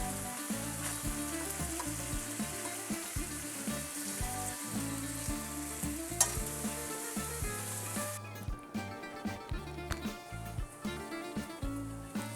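Meat for Greek kokkinisto stew sizzles steadily as it browns in a casserole pot, a dense frying hiss with crackles, quieting somewhat after turning; no talking over it.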